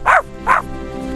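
Two quick, sharp puppy barks, close and fairly loud, with a short pause between them and then quiet room tone.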